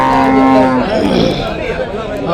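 At a cattle market in Punganur, Andhra Pradesh, a cow gives a loud, close, drawn-out moo that fades into the broad murmur of the market crowd.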